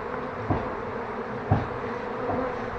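Honeybees from a nest inside the wall of a house being demolished make a steady, close buzzing drone, with a couple of louder passes as individual bees fly near.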